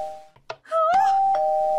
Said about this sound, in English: It keeps ringing the doorbell!